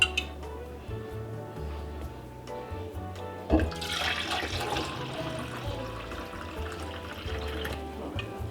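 Homemade kombucha pours into a container in a continuous liquid stream with gurgling and splashing that swells midway, fairly close, with faint knocks and handling noise.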